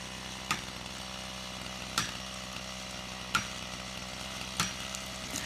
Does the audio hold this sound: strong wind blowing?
no